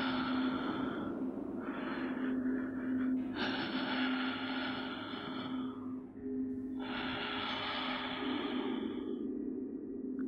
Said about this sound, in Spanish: lo que hacía más aterrador era la ruidosa respiración